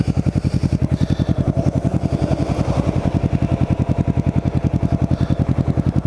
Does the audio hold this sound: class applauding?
no